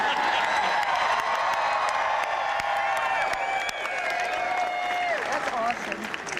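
A large rally crowd in a parking lot in Reno, Nevada, greeting Bernie Sanders with sustained applause and cheering, dense and loud throughout, with whoops and shouts rising above the clapping.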